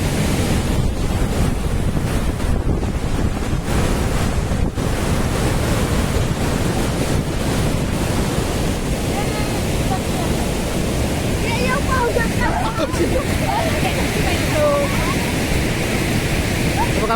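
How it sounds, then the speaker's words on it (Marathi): A steady, powerful roar of rushing water from a large waterfall at the Khorninko dam in Lanja, Ratnagiri, fills the air, with heavy wind buffeting the microphone and faint voices underneath. "धबधबो हा मोठो बघा"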